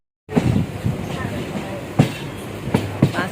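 A train rolls into Dum Dum station, its steady rumble carrying a few sharp clattering knocks from the wheels over rail joints close by.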